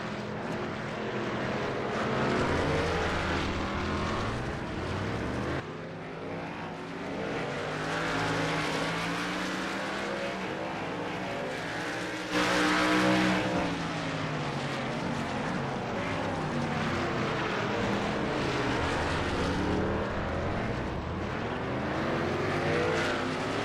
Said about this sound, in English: 7 cars under a blanket in a line here in a train.